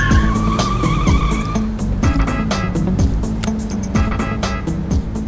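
A car speeds hard in a movie comedy chase, engine roaring and tires squealing repeatedly under a steady musical score, with no talking.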